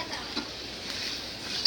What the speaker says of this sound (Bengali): একদম কম তেল দিয়ে, জাল কম দিয়ে